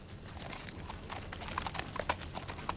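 A horse's hooves clip-clop in a quick, steady rhythm on hard ground, close and fairly faint, with no talking over them.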